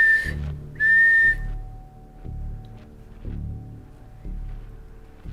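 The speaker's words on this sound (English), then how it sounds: "That was two whistles" Two clear, high whistled notes sound in quick succession during a ghost hunt inside a haunted museum, followed by quieter low rumbling and faint background tones.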